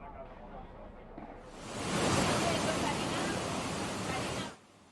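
Muddy floodwater gushing through the streets of a Spanish town during deadly flash flooding in south-east Spain, a broad roaring rush that swells loudly after a quieter start and cuts off abruptly near the end.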